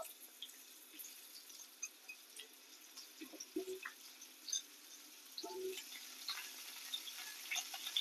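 Pumpkin pieces fry in white oil in a pan while a pumpkin mash is made, giving a steady, fairly quiet sizzle throughout with a few faint stirs and clinks and no voices.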